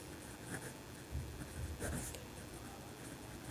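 Chalk or marker scratches across a board in a maths lesson on complex numbers, short irregular strokes and taps in quiet bursts, faint and fairly close.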